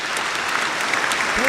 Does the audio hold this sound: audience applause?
yes